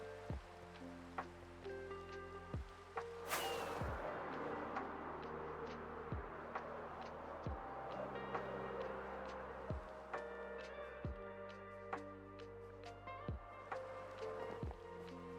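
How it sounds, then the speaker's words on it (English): Rain in a Minecraft-style video game falls softly and continuously, a quiet hiss behind faint game ambience and repeated plucked musical notes, with no voices. "And of course it's raining."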